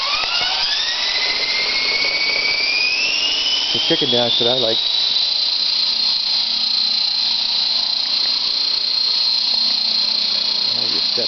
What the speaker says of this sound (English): Nice yellow helicopters.